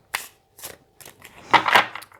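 A deck of tarot cards is shuffled by hand in a few crisp bursts, two short riffles and then a longer, louder flurry of cards slapping together. The sound is close and plain, with no voices over it.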